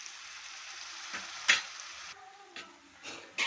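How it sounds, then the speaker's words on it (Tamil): Ground ginger paste sautéing in a pan for a country-rooster pepper chicken, a soft steady sizzle broken by a few scraping stirs of a spoon, with no talking. "நம்ம அரைச்சி வச்ச இஞ்சி பேஸ்ட் விழுதை நம்ம இதில் போட்டுக்கிட்டு நல்லா கிளறி விட்டுக்கலாம். நல்லா கொஞ்ச நேரம் நல்லா வதங்கட்டும்."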